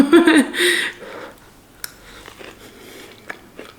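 Someone bites into apple crumble with loud crisp crunches at first, then chews quietly in a close, otherwise silent room, with a few soft clicks of mouth noise.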